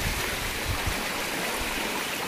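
Floodwater from heavy rain in Sathankulam rushing with a strong current near a bridge, a steady broadband roar of flowing water with a low rumble, continuous and close.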